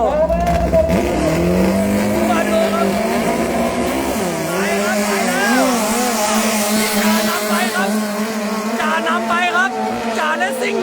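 Toyota 5K-engined drag race cars launch in a final at Thai drag strip, engines howling and rising in pitch as they accelerate away, loud and continuous under excited commentator speech throughout.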